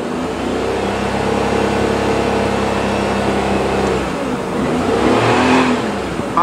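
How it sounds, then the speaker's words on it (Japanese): Daihatsu Mira Avy engine revving as the accelerator is pressed, a steady loud drone holding for about four seconds, dipping, then rising again near the end with the air conditioner running. "2にしてアクセルをふかしたら、"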